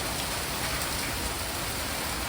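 Rain falling steadily in a summer garden, a dense, even hiss of drops on surfaces, close and continuous throughout with no voices.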